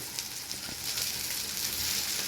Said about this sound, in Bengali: বড়াগুলোকে উল্টে দেওয়া হয়েছে এবার এটা আস্তে আস্তে ভাজা হবে